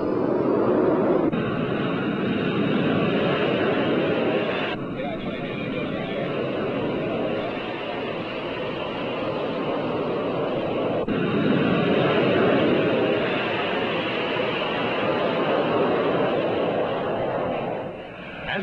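Airliner taking off from a Los Angeles runway, a loud, steady broadband jet roar that holds evenly for nearly twenty seconds.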